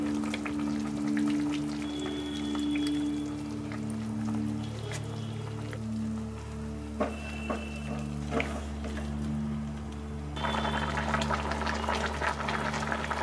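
Cauliflower malai curry with coconut milk simmers and bubbles steadily in a covered pan, a continuous close, moderately loud boil with a low hum beneath and occasional small clinks.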